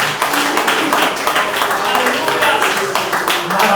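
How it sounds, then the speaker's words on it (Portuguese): Audience clapping at an evening church service, dense and steady throughout with cheering voices mixed in, loud and close. "Palmas agora, Jesus, nessa noite."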